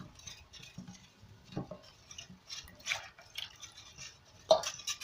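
Homemade bathing soap ingredients stirred into soda ash solution, a quiet irregular run of wet sloshing and faint scraping clinks against the container, close and without talk.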